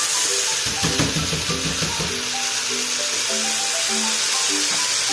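Rice stirred through fried onions in a hot pot for Palestinian mujaddara gives a steady sizzle with scraping, spoon-stirring noises near the start. Faint tonal background sounds sit underneath.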